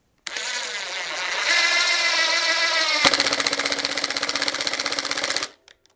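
A Ryobi ONE+ HP impact driver whirs up, then shifts into a rapid rattling hammer as it drives a screw, stopping abruptly after several seconds.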